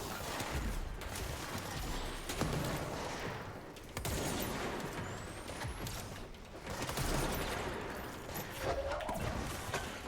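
Flying enemies firing at the player in the Control video game, with dense bursts of gunfire and crashing impacts filling most of the stretch, loud and close.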